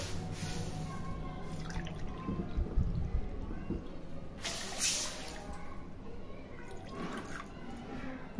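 Water poured into a pot for mango sheera, a trickling, splashing pour with drips and a few brief louder splashes, close by and fairly quiet, with no talking over it.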